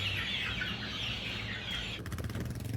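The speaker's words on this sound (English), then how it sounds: "This is the first round of chickens." Young laying-hen chickens being moved into mobile coops on a family farm keep up a dense, close chorus of peeping and clucking, with a quick rhythmic flutter toward the end.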